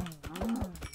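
Minecraft cow mooing in a video game, a single short low moo over about a second, accompanied by soft clicking taps like keyboard typing.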